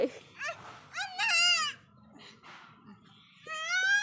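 A young goat bleats several times in quick, wavering cries, close and fairly loud, with short pauses between calls.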